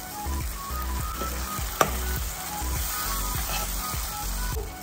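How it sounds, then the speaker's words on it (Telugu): Tomato puree hitting a hot pan with turmeric and coriander powder for egg masala: a steady, close sizzle and crackle throughout, over a faint rhythmic low pulse, with a single sharp click early on. "ముందుగానే గ్రైండ్ చేసి పెట్టుకున్న టొమాటో ప్యూరీని వేసేసుకుందాం."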